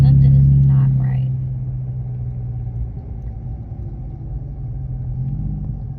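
Car engine idling with a heavy low rumble, loudest at the start and then settling into a steady drone, with brief speech early on.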